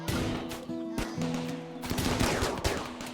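Rapid gunfire from a firefight in the RimWorld colony-management game, with repeated sharp bursts and shots over steady background game music, continuous and fairly loud throughout.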